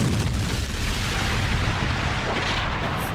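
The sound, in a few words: cartoon missiles fired and exploding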